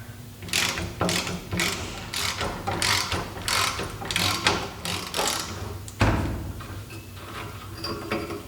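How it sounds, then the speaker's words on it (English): A hand ratchet works on an exhaust bolt of an MGB, giving a rapid series of close, sharp clicking bursts in repeated strokes with brief pauses between them. "make sure that you're loosening the bolt instead of tightening it"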